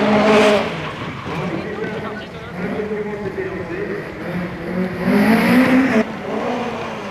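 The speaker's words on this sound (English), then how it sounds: "Champion of Champions event, we have the Opel Manta. This, of course, is one of the really tried and trusted rally cars" Opel Manta rally car engine at the 1988 Race of Champions revs and pulls away, a rising and falling engine note heard under a commentator's steady talk.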